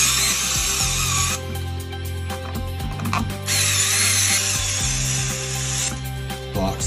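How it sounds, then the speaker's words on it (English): A power drill drives screws to tighten a light fixture box against a plaster wall in a closet, with close whirring bursts that stop and restart between short pauses. "then I'll tighten these screws to tighten the box to the plaster"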